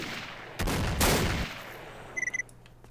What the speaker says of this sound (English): Who's shooting shotguns at me?